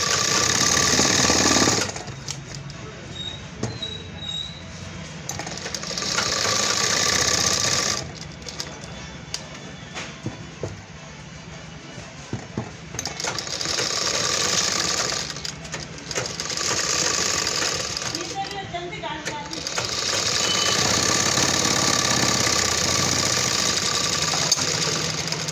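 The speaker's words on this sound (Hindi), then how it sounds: "नीचे सिलाई मार लेते हैं।" A sewing machine stitches a blouse hem in loud, steady whirring bursts, stopping and restarting several times with short pauses between runs.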